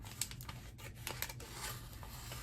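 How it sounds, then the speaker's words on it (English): Scissors cut paper along a guide line with a steady run of small snips and crisp rustles, fairly close and without talk. "so we take a pair of scissors"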